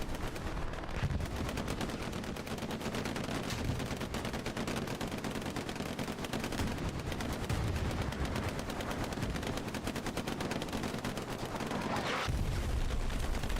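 Continuous rattling gunfire and distant artillery rumble fill a Hell Let Loose battle in bad dynamic weather, a dense steady barrage with rapid machine-gun bursts throughout and a heavier thump near the end.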